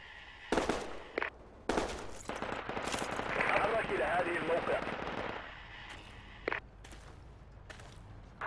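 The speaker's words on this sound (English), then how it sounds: "He's firing." Enemy gunfire in the Project Reality video game: sharp shots, some distant and some closer, and a rattling automatic burst, with footsteps and faint voices in the mix.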